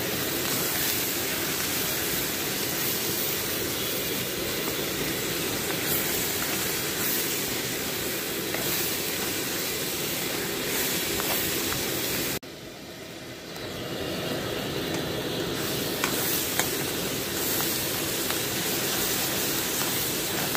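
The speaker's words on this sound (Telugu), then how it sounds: "ఇంకా వేగాలి ఉల్లిపాయలు" Onion pieces frying in a pan with turmeric and salt give a steady, loud, even hiss that dips briefly partway through, then resumes its constant sizzle.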